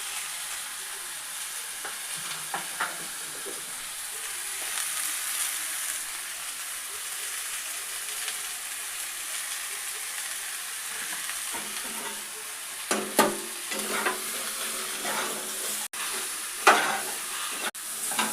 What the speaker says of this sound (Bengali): আমটাকে এরকম করে একটু নাড়াচাড়া করতে হবে